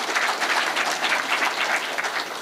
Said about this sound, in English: and that I think deserves a clap.